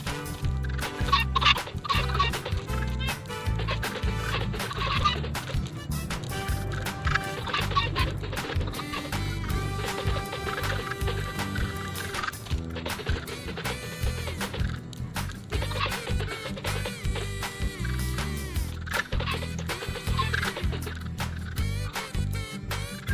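Dense, loud, repetitive fowl calls from many chickens in the Minecraft video game fill the whole stretch, a busy clucking chorus with no talk over it.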